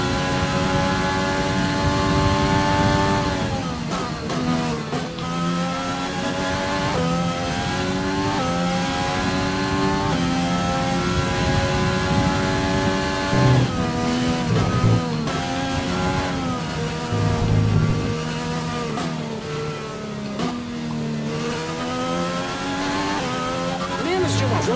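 F1 2020 racing game car engine droning continuously at high revs, with pitch rising and dropping through gear shifts on a wet track, loud and steady throughout, with music or talk underneath.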